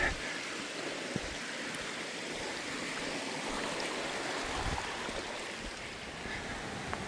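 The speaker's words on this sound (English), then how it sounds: "here's the first big creek crossing that I'm always curious about, and it looks like it's still low" Creek water rushes steadily at the first big crossing of the North Fork of Lone Pine Creek on the Mt Whitney trail, a continuous broadband wash running through the whole stretch with no talk over it.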